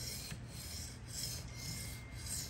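Steel Spyderco knife blade sharpened on TSProf Kadet Pro stones, giving a steady, quiet rasping scrape in repeated strokes with no talk.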